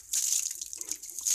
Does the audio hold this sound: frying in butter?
no